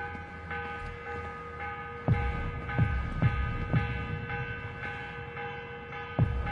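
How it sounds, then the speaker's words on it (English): A morning bell rings in Assassin's Creed Revelations, loud struck tolls recurring irregularly about every second over a sustained humming tone, each strike leaving a ringing decay. "The morning bell."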